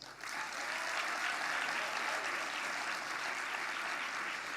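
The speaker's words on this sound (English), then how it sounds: "I want to invite you, not the audience, you to give yourselves a resounding round of applause." Graduates at a university graduation ceremony clap for themselves, producing a broad, sustained roar of applause that swells quickly and holds steady throughout.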